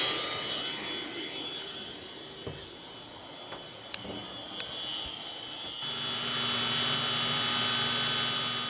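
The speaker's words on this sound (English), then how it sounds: "This is the best I can do for a ventilation fan. Vacuum out the fumes." A vacuum cleaner runs steadily near an aluminum boat to pull fumes away, a continuous loud whirring drone with a few faint clicks, swelling louder and fuller toward the end.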